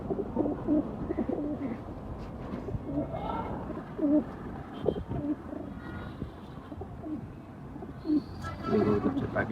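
Pet pigeons in a small cage coo softly on and off over a steady background of rustling and shuffling, with occasional faint chirps.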